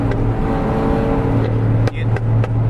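A car with downpipes running on 91 fuel drives along with a steady engine drone, then a couple of sharp exhaust crackles and pops burst out near the end, close and loud.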